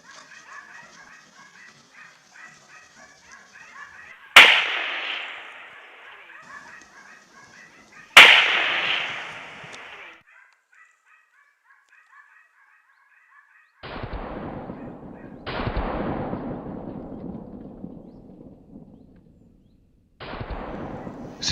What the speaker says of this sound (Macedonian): Се слушаа и неколку истрели подалеку во шумата